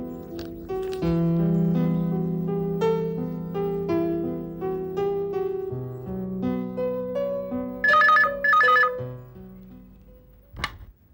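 A telephone rings while a call is being placed to a doctor, a steady repeating electronic ring tone running for several seconds, ending in a brief sharp click, with no talk.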